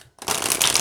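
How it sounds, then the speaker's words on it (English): A Halloween-themed Llewellyn tarot deck is shuffled by hand, a loud, close, continuous papery riffle that starts abruptly after a brief silence. "I enjoy shuffling a Llewellyn deck"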